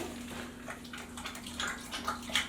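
A dog splashing in water after being sent to fetch, with soft, scattered splashes and light sloshing at moderate distance, fairly quiet overall.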